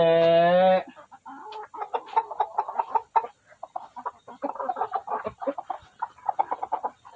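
Chickens cluck busily and continuously up close, a chattering flock of short calls, after a brief loud tonal note at the start.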